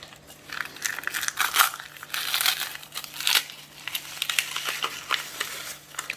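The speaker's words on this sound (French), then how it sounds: "Donc la crêpe dentelle, on la casse." Crêpe dentelle wafers are crushed by hand into rough pieces, giving close, irregular bursts of crisp crackling and crinkling over several seconds, loud then softer, with no talk.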